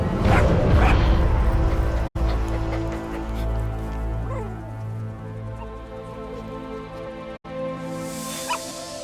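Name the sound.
puppy DD barking and whimpering in video game Metal Gear Solid V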